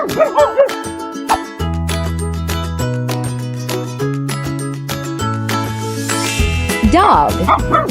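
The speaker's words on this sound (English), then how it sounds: "Dog." A dog gives short yipping barks at the start and again near the end, set against a steady children's music backing track.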